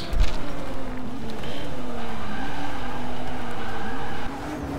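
A race car in Forza Motorsport 6 brakes on its own into a turn: a loud, steady engine drone whose pitch wavers and eases down, with a brief tire scrub at the start.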